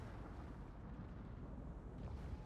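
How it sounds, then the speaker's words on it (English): Torpedoes from a Gdansk slamming into the Colombo during a World of Warships tournament match, a dense, loud, sustained rumbling blast with a heavy low-end roar and a slight swell near the end. "that's a lot of Gdansk torpedoes going in that Colombo"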